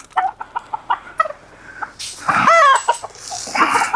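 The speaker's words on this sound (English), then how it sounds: "Have our roosters separated over here" Silkie chickens cluck in a rapid series of short, close calls, followed by a louder, drawn-out rooster crow.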